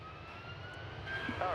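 A jet airplane rumbles at DFW Airport as a faint, steady distant roar, with a brief voice fragment at the very end.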